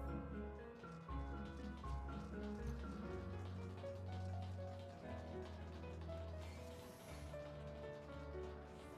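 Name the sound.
rain in Final Fantasy XIV video game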